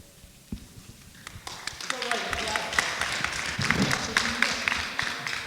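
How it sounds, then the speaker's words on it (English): Audience clapping at a community board general meeting starts sparse and builds into scattered, moderately loud applause, with voices talking underneath. "I love applause. You can keep clapping."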